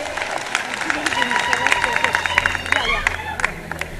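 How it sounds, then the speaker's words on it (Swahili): Audience applause at a UDA women's congress at the Bomas of Kenya in Nairobi: dense, steady clapping from a large crowd throughout, with crowd murmur and shouts mixed in. "Asante sana, mpigieni makofi tena."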